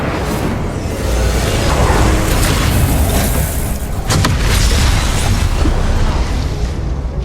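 Confringo blasting curse explosions in Hogwarts Legacy boom in a loud, dense, continuous rumble of blasts and bursts during spell combat.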